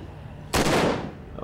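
Gunfire in The Walking Dead: Survival Instinct video game: a single sharp, loud blast partway through, with a decaying tail and quiet game ambience before it.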